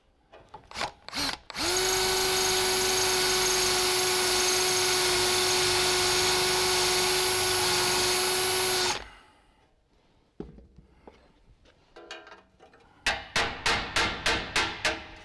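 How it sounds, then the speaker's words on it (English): A power drill whines loudly and steadily for several seconds into the rusted metal roof of a 1970 Holden HG ute, with short bursts of drilling before and a series of quick pulses after. "So I'll get in there with the drill and I'll just loosen that up a little bit."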